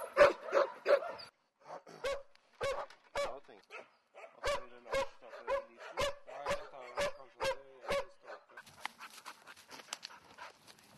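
Several hunting dogs bark in a rapid, uneven series during a Norwegian moose hunt, sharp yelps and deeper barks overlapping, close by, fading into panting and rustling at the end.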